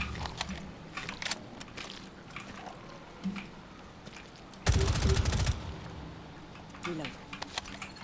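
Gunfire in the Rainbow Six Extraction PC shooter game, a short loud burst of rapid shots midway, surrounded by scattered clicks and small impacts under quiet talk.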